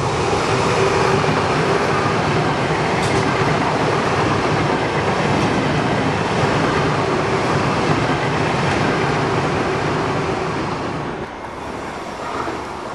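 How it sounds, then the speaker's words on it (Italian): A Frecciarossa high-speed train, the 8503 Bergamo-Roma, passes straight through Grumello station with a loud, steady roar and faint wheel clatter, close and continuous throughout with no voices, easing briefly near the end. "Attenzione, treno in transito al binario 2,"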